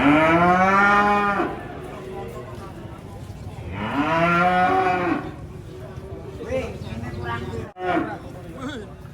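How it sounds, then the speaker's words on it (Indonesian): Cattle being unloaded from a truck let out two long, loud, deep moos close by, followed by shorter grunting calls, with some background chatter from onlookers. "Sapi unik."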